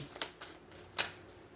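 Tarot cards shuffled by hand, giving a few brief crisp riffling bursts close by against a quiet room.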